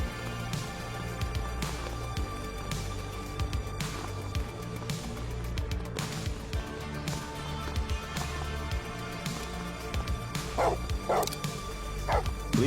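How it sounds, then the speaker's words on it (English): A police K9 dog in The Precinct barks in repeated close, loud bursts with yips and whimpers, over continuous game background sound and music. "Police dog, hold it."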